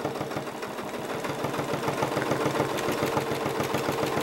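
A sewing machine stitches continuously while thread painting a zinnia on a quilt, a fast, even mechanical rattle that runs steadily up close with no speech.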